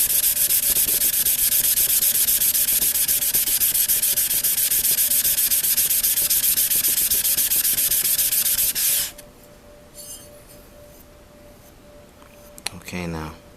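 An old paring knife is pushed over a sharpening stone with a loud, steady, close scraping hiss that runs unbroken for about nine seconds, then stops, leaving near quiet with a few faint handling noises.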